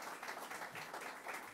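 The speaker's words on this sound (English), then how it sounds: "Let's give a round of applause to Michelle Lujan Grisham," An audience applauds Governor Michelle Lujan Grisham of New Mexico at a multi-state climate event: a steady, dense wash of clapping, fairly faint and distant, sustained throughout without a break.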